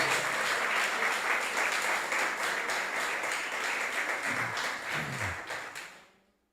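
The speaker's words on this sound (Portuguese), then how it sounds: "Quantos de vocês podem aplaudir a Jesus?" Church congregation applauding after the pastor invites praise, a dense, steady wash of many hands clapping that holds loud and even throughout, then fades away at the very end.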